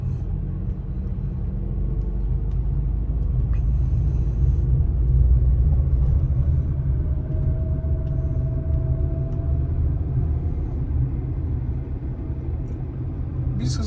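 A manual car on a driving exam route rolls along the road with a steady low engine rumble and tire noise, loud and continuous from inside the cabin, no speech heard.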